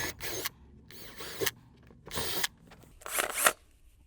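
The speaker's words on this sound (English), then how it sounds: "we're ready to do some drilling" A power drill fitted with a 3/16 inch bit bores holes into a wall for mounting a full-motion TV bracket, sounding in four short bursts of about half a second each, separated by quiet pauses.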